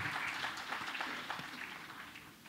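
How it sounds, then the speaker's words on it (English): Audience at a formal ceremony session applauding the chief guest, a soft, distant patter of clapping that fades gradually over a couple of seconds. "A warm round of applause once again, ladies and gentlemen, for our chief guest."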